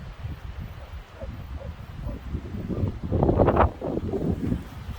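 Strong wind roars during a wind storm in New Mexico, buffeting the microphone with a low, rumbling gusty rush that swells louder midway and stays heavy, with rustling over the top.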